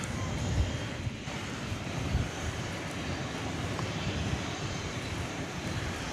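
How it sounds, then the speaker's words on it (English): An American Airlines Airbus A321 bound for Denver roars at night at Dallas Fort Worth airport, a steady, fairly distant broadband engine rumble with wind noise over it. "There's American Flight 577, going to Denver, Colorado, an Airbus A321."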